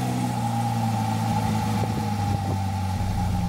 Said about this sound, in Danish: Man kan godt mærke, at det er en ren racegearkast,